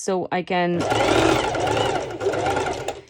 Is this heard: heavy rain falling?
no